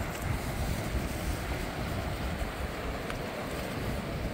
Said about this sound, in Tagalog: yung current ng tubig papalakas na siya